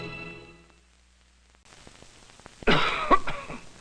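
A person coughs in an old cough drop commercial: a faint musical fade and soft hiss, then a loud cough burst followed by a second, smaller cough close to the microphone.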